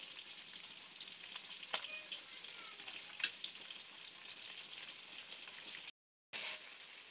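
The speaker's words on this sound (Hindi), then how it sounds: "इसे 2 मिनट के लिए फ्राई करेंगे हाई फ्लेम पर।" Mutton pieces coated in ginger garlic paste fry on a high flame for a mutton korma, giving a steady, close sizzle with a few sharper spatters and stirring scrapes, briefly cut to silence near the end.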